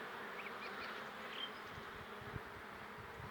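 Carpathian honey bees of the Luchkivskyi type drone steadily around a hive at an apiary, a continuous soft buzzing swarm with occasional individual bees passing close.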